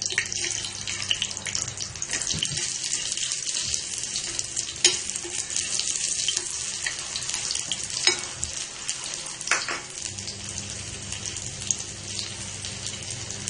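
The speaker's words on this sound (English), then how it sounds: "Fry this till golden brown in color." Corn cutlets fry in hot oil with a steady, dense sizzle that runs unbroken throughout, broken now and then by a few sharp crackles and brief clinks.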